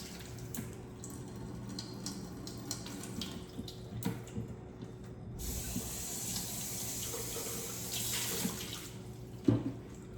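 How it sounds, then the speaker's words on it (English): Water is poured into a container of sea moss to make juice, a soft, faint splashing and trickling stream that starts midway and continues with small gurgles and drips, heard alone. "I'm going to put 20 ounces of water in here because I want it to be like juice"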